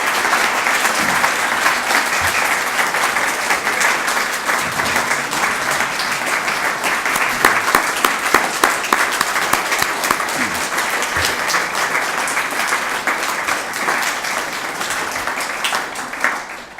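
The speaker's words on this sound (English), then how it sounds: "I'd like everybody to give a big round of applause to Jayant and Rajni." Long, steady roar of applause from a large audience at a business talk, loud and even throughout, with a few sharper claps standing out before it fades at the very end.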